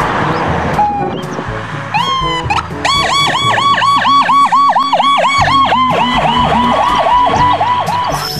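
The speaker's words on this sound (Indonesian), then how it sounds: "Wah, ada mobil ambulans." An electronic toy siren wails in rapid repeating up-and-down sweeps, loud and close, after a few rising chirps and beeps at the start.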